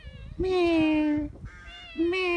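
Two drawn-out meows, one after another, clear and close.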